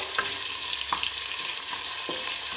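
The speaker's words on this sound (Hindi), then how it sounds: "दे दिया हरी मिर्च को इसको थोड़े से फ्राई करना है" Green chillies frying in a pan for rajma pulao, an even hissing sizzle with four evenly spaced taps of a spoon against the pan.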